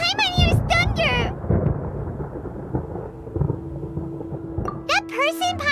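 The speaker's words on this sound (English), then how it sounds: "Paimon hears thunder!" Low, rolling thunder rumbles through a storm in the game Genshin Impact, a deep sustained roar heard between bursts of character voices at the start and end.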